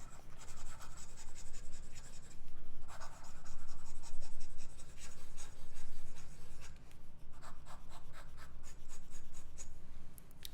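A Platinum 3776 fountain pen with a music nib writes fast across paper, giving close, continuous scratchy strokes with brief pauses between bursts of writing.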